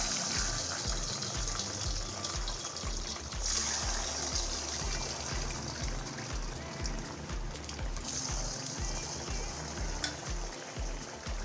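Vada batter ladled little by little into hot oil, a steady, moderately quiet sizzling and bubbling hiss that runs through the whole stretch with a faint low hum beneath.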